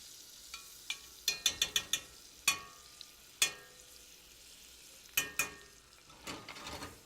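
Shrimp hitting a pan of hot oil and butter: a quiet low sizzle under a run of sharp metallic clinks and taps, some in quick clusters and others spaced apart, close up, with no talk.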